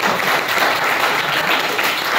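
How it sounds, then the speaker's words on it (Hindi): A seated lecture audience at a network marketing talk breaks into dense, sustained clapping, loud and continuous throughout, with no talk over it. "एक बार ताली होनी चाहिए कि होनी चाहिए?"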